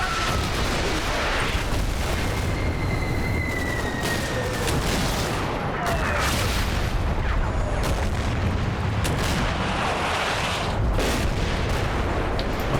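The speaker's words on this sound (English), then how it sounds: "That's what happens when you run, lads. You just get mowed down by machine guns." Sustained gunfire and booming battle noise from Combat Mission: Battle for Normandy, a WWII Normandy wargame, rolls on at steady loudness for the whole stretch, with dense overlapping bursts and distant thuds but no talking.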